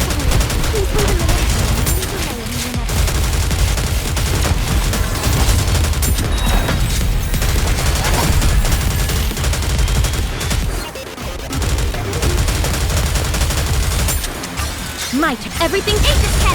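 Dense, continuous barrage of booming cannon fire from a video game, loud and sustained throughout, with voices shouting over the battle.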